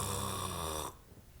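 A person imitates snoring with the voice, a single rough, rattling throat-vibration snore that is loud and close, then breaks off abruptly into near silence.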